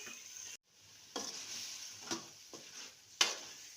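Chicken pieces sautéing in a pan for a South Indian chicken curry, a steady close sizzle of frying broken by a few scraping stirs with a spoon, no voices.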